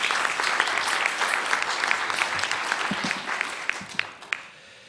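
Applause at a press club luncheon, a full room clapping steadily before thinning out to a few last scattered claps and quiet.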